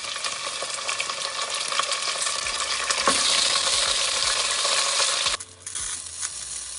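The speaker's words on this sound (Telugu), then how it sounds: "ఆనియన్ కొద్దిగా ఫ్రై అయ్యాక 2-3 సార్లు కడిగిపెట్టుకున్న మటన్ వేసేసుకున్నా." Washed mutton sizzles and fries in oil with onions and chillies, a steady close crackle with occasional stirring clatter from the pan.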